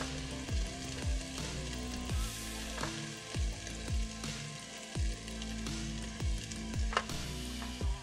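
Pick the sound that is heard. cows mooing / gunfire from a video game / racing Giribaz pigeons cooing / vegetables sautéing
vegetables sautéing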